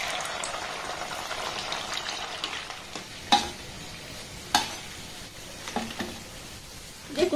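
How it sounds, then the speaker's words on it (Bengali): Sweet rice dumplings (pithe) frying in oil make a soft steady sizzle, broken by a few sharp clinks and scrapes of a utensil against the pan. "অল্প অল্প করে ভেজে নিচ্ছি"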